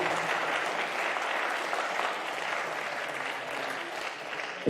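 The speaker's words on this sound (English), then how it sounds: "So big round of applause to them," An audience at a squash league match in a stadium claps steadily for several seconds, a dense, even patter of hands heard from within the crowd.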